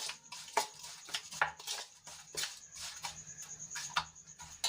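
A spoon mixes spice masala in a pan with oil, faint irregular scraping and light clinks against the metal, close and quiet, with no voices.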